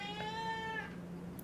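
A pet cat gives one drawn-out, rising-then-falling meow, fairly close and clear against a quiet indoor background with no talking.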